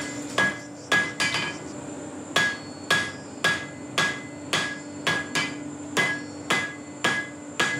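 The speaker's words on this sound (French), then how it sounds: "on entend le marteau." A blacksmith's hammer strikes metal at a village forge, making a steady run of about a dozen sharp, ringing blows with short pauses between them, close and clear with no talk.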